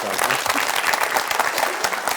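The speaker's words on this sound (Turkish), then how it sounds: "seni tebrik bir alkış rica ediyorum" A dense wash of audience applause, steady and loud throughout with many hands clapping at once.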